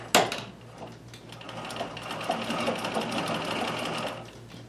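Singer Circular Stitcher 161847 sewing machine running steadily, a close rapid mechanical clatter with a constant low hum beneath, starting with a sharp knock and continuing for several seconds.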